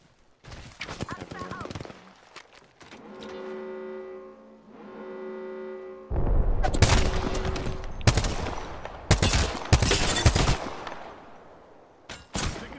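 Gunfire in Apex Legends, dense, loud bursts of shots in the second half after quieter game sounds and a tonal hum, with voices talking at times.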